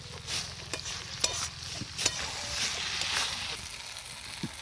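Mutton fish curry cooking in oil in a home kitchen pan, with a steady sizzle and scattered scraping stir strokes, close and moderately loud, with faint voices in the background.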